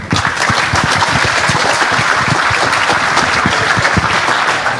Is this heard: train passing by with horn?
no